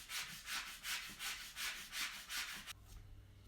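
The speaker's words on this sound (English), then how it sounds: "Lots of sanding." Hand sanding wood filler on 180-year-old stairs, nine or so even back-and-forth strokes in a steady rhythm, close and soft, then stopping abruptly and leaving a low hum.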